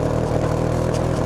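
A restored go-kart engine runs at full throttle, a loud, steady, sputtery buzz with rough pulsing, close and alone with no talk.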